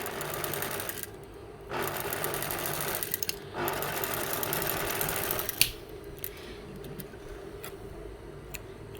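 A sewing machine stitches a joined sleeve cuff, an inch and a half wide, onto a doll's garment, humming steadily in close runs broken by a few short pauses, with no talking.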